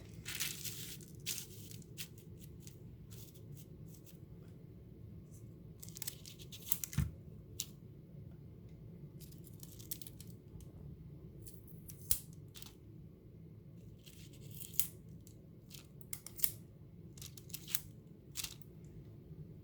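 Tape is torn and pressed down to fix wax paper to the middle of a plate: quiet, sporadic crinkly rips and sharp little crackles over a soft hum, with no one speaking.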